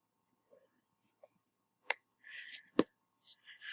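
A computer mouse gives a couple of sharp, isolated clicks amid near silence, close and crisp, with brief soft rustles between them.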